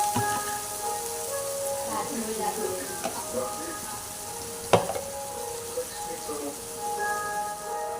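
Ground masala paste sautéing with curry leaves in a pan for egg curry: a soft, continuous sizzle and crackle, close by, with a single sharper knock partway through and a voice speaking over it.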